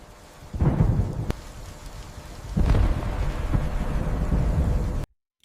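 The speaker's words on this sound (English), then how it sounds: "Outside, the thunder rolls endlessly, and the storm's roar drowns out the sounds of the wild." A thunderstorm with heavy rain on a savanna at night, with two deep rolls of thunder building and rumbling over steady loud rain before cutting to silence at the end.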